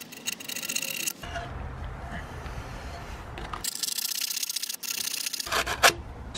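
An Allen key scrapes along the edges of grip tape on a scooter deck in short, close rasping strokes, separated by quieter pauses.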